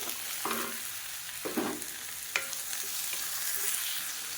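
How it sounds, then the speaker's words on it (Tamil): Two chopped medium tomatoes sauté in a pan with curry leaves for a South Indian chutney, giving a continuous soft sizzle broken by a few louder scraping stirs of a spoon. "இப்போ பாருங்கள், தக்காளி நல்லா லேசாக வதங்கிடுச்சு."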